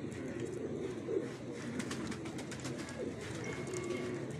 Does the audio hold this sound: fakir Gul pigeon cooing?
yes